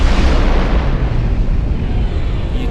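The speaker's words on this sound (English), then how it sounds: "touches the record, and a big yellow explosion happens" A cartoon explosion effect bursts out as a big, dense, loud boom that fills the whole span and slowly fades, with no voices.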